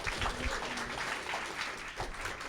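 An audience at a live event claps in a steady, moderate round of applause. Many hands blend into a continuous patter with no speech over it.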